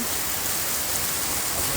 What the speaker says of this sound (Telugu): ఇంకా వర్షం ఆగలేదు